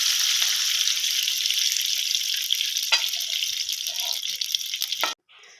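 Ghee heating in a kadai sizzles loudly and steadily, a dense hiss with small crackles throughout, then cuts off abruptly near the end.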